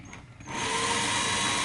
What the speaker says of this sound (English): I'm going to spin it a little faster for the grinding tool